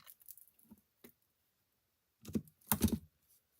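Scissors trim the end of a ribbon bow on a handmade folded card, a few quiet snips and paper rustles, with two louder close cuts near the end.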